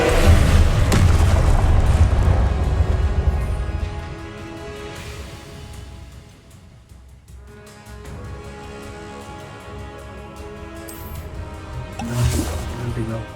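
A Confringo blasting curse detonates in Hogwarts Legacy, a loud, deep booming blast with heavy low rumble that decays over several seconds, followed by a softer rumbling tail and a second swell near the end, with a voice heard.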